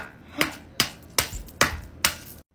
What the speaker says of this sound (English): Now let's break the rest with the hammer.